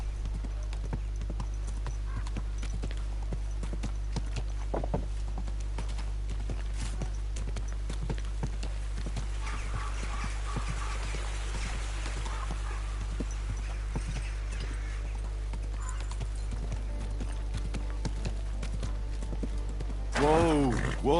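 Horse hooves in the video game Kingdom Come Deliverance 2: a steady, continuous clip-clop throughout, with faint talk at times and a short whinny-like call near the end.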